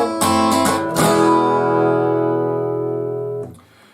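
An electric guitar plays the outro of a 1950s rock 'n' roll tune: a few quick, bright strummed chords, then one final chord left ringing close and clear before it fades.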